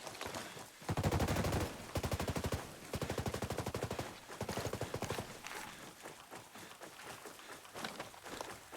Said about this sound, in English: I'm hearing enemy fire.